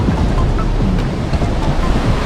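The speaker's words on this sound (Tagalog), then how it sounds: "Tignan nyo guys yung alon." Surf at Bolinao, Pangasinan, with waves crashing against the rock formations in a continuous loud roar while strong wind rushes over the microphone.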